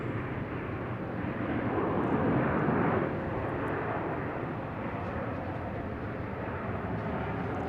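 A Spirit Airlines airliner inbound from San Juan lands at Boston Logan Airport, its broad jet roar steady throughout and swelling slightly in the first few seconds, heard loud and fairly close with no talk.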